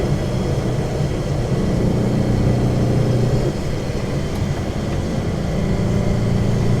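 A Porsche 912 engine pulls flat out in third gear at mid revs up a mountain road, a loud, steady droning hum with a strong low rumble inside the car and no talking.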